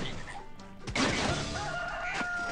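A duck in the mobile game Swamp Attack 2 gives a bird-like squawking call among busy game effects, with a sudden crash near the middle and steady noisy action throughout.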